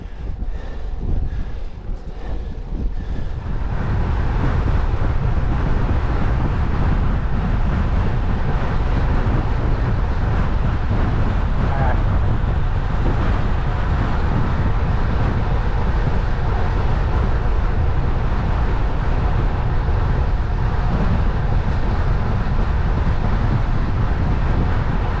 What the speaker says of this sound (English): Cheeky wind.